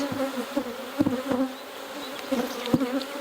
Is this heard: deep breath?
no